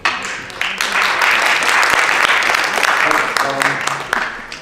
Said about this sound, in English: I want you guys to hold the applause until the end after everyone has spoken